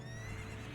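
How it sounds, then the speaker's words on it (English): A horse whinnies continuously in a fantasy video game, the ghostly mount of the Phantom Ganon boss in The Legend of Zelda: Ocarina of Time, a short, faint, steady neigh with no voices. "it'll be whichever one is making the galloping sound"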